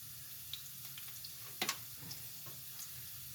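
Garlic and onion roasting in a pan, a faint low sizzle with a few soft clicks and one brief louder scrape of stirring partway through.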